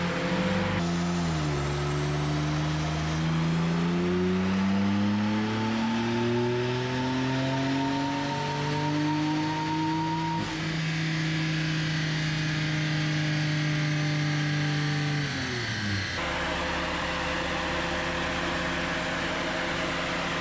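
Car engine revving hard on a dynamometer, pitch climbing steadily through a long pull before dropping off, over a loud constant roar of a fan.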